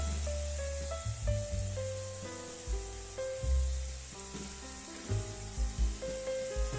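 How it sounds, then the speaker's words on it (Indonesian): Shrimp meat stir-fried in oil in a pan, a steady close sizzle and hiss with intermittent stirring scrapes and soft clatter, no voices. "ini kita tumis semua hingga daging udangnya ini terlihat sedikit memerah"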